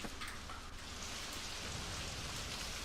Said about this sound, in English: it is nighttime and it's raining